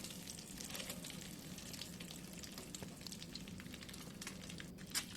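An egg fries in a pan with a steady, close crackling sizzle that runs unbroken throughout, dotted with small spits and pops and one sharper pop near the end.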